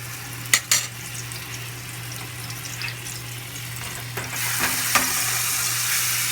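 Garlic frying in a pan on medium heat for a stir-fry gives a steady close sizzle, with a couple of sharp knocks early on; the hiss grows louder and brighter over the final seconds.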